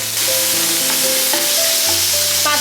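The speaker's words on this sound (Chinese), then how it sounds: "这个是灯笼椒，我们舀一勺放在锅里边" A spoonful of lantern pepper paste sizzles loudly in a hot wok, a steady close hiss of frying with scattered clinks and tonal scraping over it.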